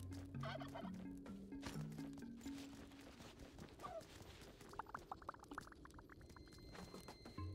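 A turkey gobbles in the video game Spelunky 2, a fluttering burst of rapid gobbling notes over quiet game music, with a faint voice briefly in the background.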